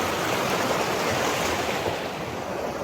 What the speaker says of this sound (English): the creek follows this canyon